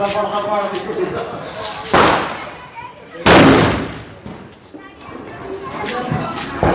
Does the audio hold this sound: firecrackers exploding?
yes